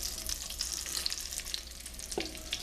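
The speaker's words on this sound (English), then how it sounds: "Put the veal in there." Floured veal cutlet frying in a hot pan over a raised flame, a steady close sizzle with crackling spatter and a brief stir partway through.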